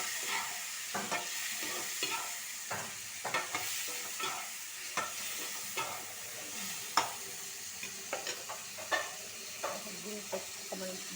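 Onions fry and sizzle in a pan with salt, turmeric and cumin powder, under a constant hiss, while a utensil stirs and scrapes in irregular close clicks and knocks.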